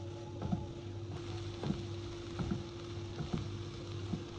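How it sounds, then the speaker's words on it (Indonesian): Finely chopped onion and garlic sauté in melted margarine in a wok, a soft continuous sizzle with a low steady hum and recurring scrapes as the spatula stirs, no voices. "Kemudian masukkan setengah potong bawang bombay dan 2 siung bawang putih yang sudah dirajang halus. Lalu kita tumis sampai matang dan wangi."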